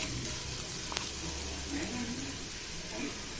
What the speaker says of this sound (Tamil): எல்லாமே இதோட மிக்ஸ் ஆகிற மாதிரி கிண்டி விட்டுக்கலாம்.